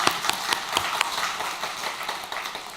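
A church congregation at a deacons' seminar claps in a brisk, uneven burst of many hands at medium distance, with sharp individual claps standing out.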